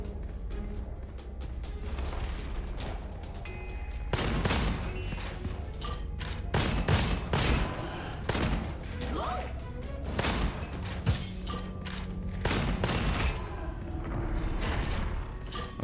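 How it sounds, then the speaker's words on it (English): Grenades going off in a shooter game, a string of loud, sharp blasts and thuds scattered through the stretch amid gunfire, with someone talking over the action. "Okay, so those are grenades."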